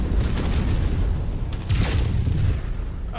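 A large explosion that throws up a mushroom cloud in the MechWarrior 5 video game, a loud, sustained rumbling boom that swells with a second burst midway and then rolls on without talk.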